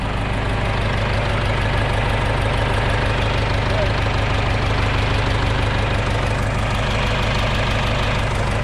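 A John Deere 3010 tractor engine idles steadily throughout, a deep, even rumble with a rhythmic knocking pulse, loud and close.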